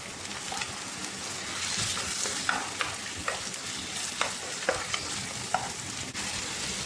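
Chicken and red onion sautéing in a pan, a steady sizzle broken by repeated scraping clicks of stirring at an irregular rhythm.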